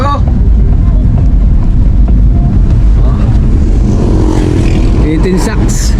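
A motorcycle carries its rider through a rural farming area in the Philippines, the engine droning loud and close amid heavy wind buffeting, with a voice briefly audible late on.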